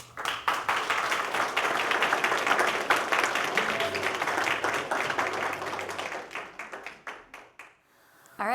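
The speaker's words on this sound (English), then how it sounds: "One more round of applause for Sean Burke" An audience applauds at a talk or presentation, dense clapping that holds steady for several seconds before thinning out to a few scattered claps and fading.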